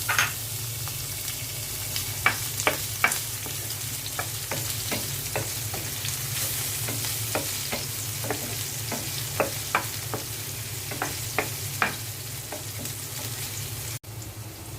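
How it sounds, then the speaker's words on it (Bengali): Chopped onion fries in oil for a bottle gourd curry, with a steady sizzle broken by irregular spoon scrapes and taps against the pan over a low background hum. "এখন লাউয়ের তরকারিটা বসিয়ে দিব। পেঁয়াজ কুচি দিয়ে দিচ্ছি।"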